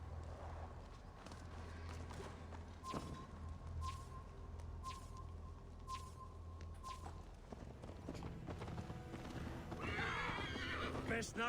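Horse neighing and hooves clip-clopping in the video game Assassin's Creed Valhalla during a drunken horse race, with a long whinny early on, hoofbeats throughout, and people speaking over it.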